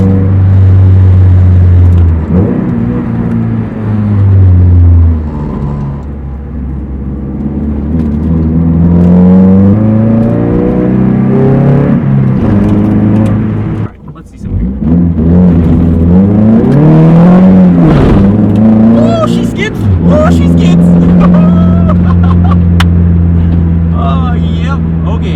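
An EcoTec-swapped Mazda Miata pulls away and circles the block, its loud engine rising and falling through gears with revving sweeps, a brief lift-off pause midway, and someone talking over the engine.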